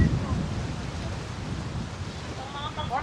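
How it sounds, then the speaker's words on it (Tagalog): Strong wind on Jomalig Island roars and buffets the microphone in a continuous low rumble, with faint voices underneath. "Napakalakas ng hangin dito."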